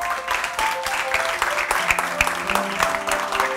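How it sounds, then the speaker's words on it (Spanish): An audience at a film festival talk event applauds the arriving guests, with loud, dense clapping throughout and a faint murmur of voices mixed in. "recibamos con un fortísimo aplauso"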